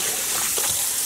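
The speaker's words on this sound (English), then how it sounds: "I'm gonna rinse until we can get the water to run clean" Lukewarm water runs in a steady, close, hissing stream while acid-dyed yarn is rinsed, a brief unbroken wash of splashing with no voices.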